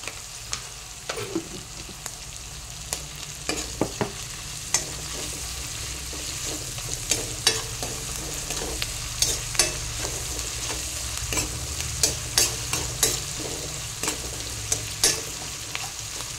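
Ginger garlic paste fries in a pan with a steady close sizzle, punctuated by frequent sharp scraping knocks as a spatula stirs it, no talk.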